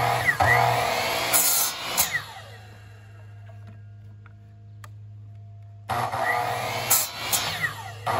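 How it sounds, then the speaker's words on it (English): A power tool cuts small spacers for tiller rest bolts on a daysailer, two bursts of whining cutting about two seconds each separated by a low steady hum, close and fairly loud. "I'm gonna cut some spacers for the little bolts that are gonna go into the rest for the tiller."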